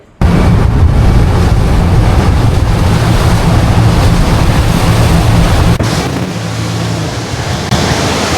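A small boat crosses sea waves near the Daymaniyat Islands, Oman, with loud, steady wind buffeting and rushing water masking everything, easing slightly toward the end.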